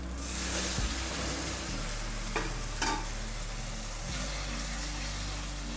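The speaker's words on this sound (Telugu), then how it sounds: "ఇప్పుడు టమాటా వేసుకుందాం" Tomatoes go into a pan of lightly browned frying onions for a tomato and amaranth-leaf curry, producing a loud, steady sizzle with a few brief stirring scrapes and clacks, close up and without speech.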